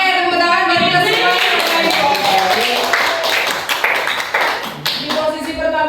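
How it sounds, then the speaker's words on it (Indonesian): A group claps together in a burst of applause, loud and close, with voices calling out over the clapping throughout. "tepuk tangan bagi kita semua"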